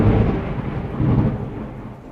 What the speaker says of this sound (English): It's like thundering back to back right now.